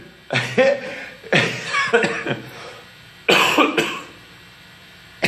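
Three loud, harsh coughing fits in a row, each a cluster of rough bursts, close to the listener with short pauses between.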